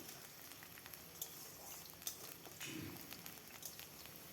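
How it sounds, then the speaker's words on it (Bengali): Potatoes frying in oil with panch phoron and garlic for a Bengali pui shak chorchori, a quiet, steady sizzle with a few soft pops and a brief louder burst near the end. "আলুটাকে বেশ কিছুক্ষণ ভেজে নেব।"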